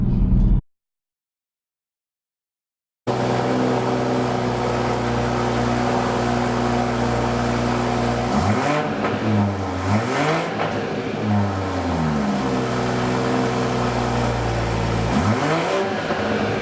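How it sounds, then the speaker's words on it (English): A 2020 BMW M340i starts after a short silence and settles into a loud, deep exhaust rumble, revving up several times with rising and falling pitch. "when you start the car up initially, it has a very strong note to it"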